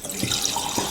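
Distilled water being poured into a measuring container in a lab, a steady close splashing stream that fills the moment, with no talk over it.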